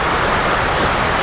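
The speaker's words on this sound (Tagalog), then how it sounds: "umuulan din po dito sa taas." Heavy rain pours down onto surfaces nearby, a dense and loud continuous hiss with no breaks.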